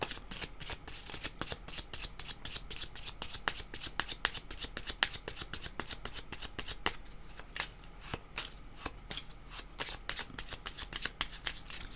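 Oracle cards being shuffled by hand, a rapid run of crisp riffling flicks and snaps repeating steadily at close range with no pauses.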